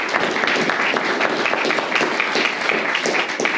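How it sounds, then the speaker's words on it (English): Audience applause at a mayoral hustings: a room full of people clapping steadily and evenly throughout, moderately loud and close, with no break. "give them a round of applause"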